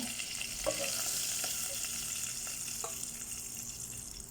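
Chicken pieces frying in hot oil for a chicken roast, a steady dense sizzle throughout with a few brief clinks of a utensil turning the pieces, fairly close and even in level.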